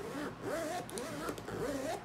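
Zipper on a North Face Access 22L backpack being pulled open and closed several times, a smooth, close, fairly quiet rasping glide without a harsh whine.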